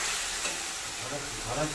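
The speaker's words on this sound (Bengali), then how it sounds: "তার কাশ্মীরি লঙ্কা দেবো, দিয়ে ভালোভাবে কষিয়ে নেব।" Soft, steady sizzle of spices frying with turmeric and Kashmiri chilli in hot oil, faint and even throughout the short stretch, with a little stirring near the end.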